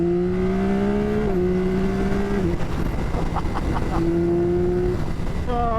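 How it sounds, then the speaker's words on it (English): A Yamaha R9's CP3 three-cylinder engine revs up loud and close with steady rising harmonic tones, a brief dip at each gear change, a break in the middle, then climbing again under constant road rush. "I love the noise from that CP3 motor"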